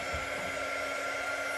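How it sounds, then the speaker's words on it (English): A handheld quick dry tool, a hair-dryer-like heat blower, runs steadily and close, drying craft paste with an even whooshing hum and a high whine throughout. "So this is our quick dry tool."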